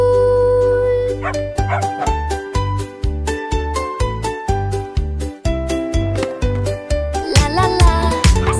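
Barks and excited yips from cartoon puppies burst in again and again over a fast, cheerful dog song with a steady driving beat and bright melody.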